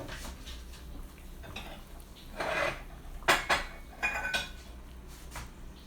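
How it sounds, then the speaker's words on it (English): Ceramic bowls are handled in a home kitchen while a sour soup simmers, giving several distinct clinks and knocks, a couple close together, over a low steady background hum. "So I have some bowls here and let's see what we can do."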